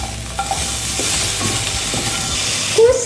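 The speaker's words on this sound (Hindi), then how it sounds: "अच्छे से मिक्स करेंगे।" Sliced potatoes with salt and turmeric powder sizzle steadily in a hot pan while a spatula stirs them, scraping loudly and close, with a sharper clatter near the end.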